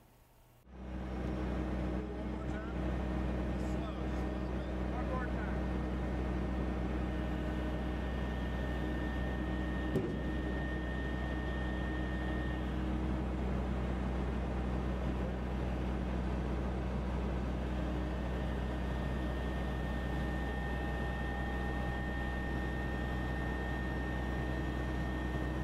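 A grapple truck fitted with outriggers works on railway maintenance equipment. After a second of quiet, a steady, loud engine and hydraulic drone runs continuously for about 25 seconds, with a single thump near the middle.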